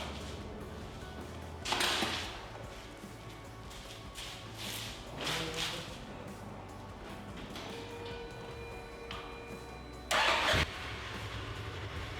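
A 2015 Polaris RZR XP 1000 side-by-side, a salvage-yard rebuild, cranks and fires in short bursts, with a loud start near the beginning, another mid-clip and a sharp final burst near the end over steady idling engine noise.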